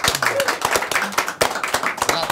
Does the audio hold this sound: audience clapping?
yes